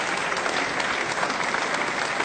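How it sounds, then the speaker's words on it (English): Dense, steady applause from a seated audience at a health talk for a graduating class reunion in Odogbolu, filling the space evenly at close range with no voices on top. "So let's give ourselves a round of applause."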